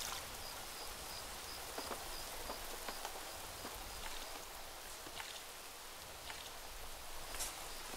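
Rain in the video game Craft the World, a soft, steady patter with scattered drop ticks, faint and continuous throughout without talk.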